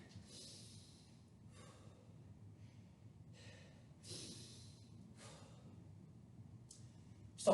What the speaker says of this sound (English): Deep breaths in through your nose and out through your mouth.